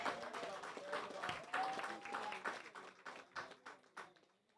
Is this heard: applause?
yes